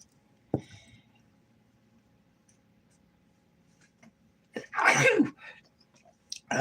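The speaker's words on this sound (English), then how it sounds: "I feel like I got to sneeze" A single loud, close sneeze bursts out during a quiet livestream, preceded by a sharp click and followed by a faint sniff, against a low steady room hum.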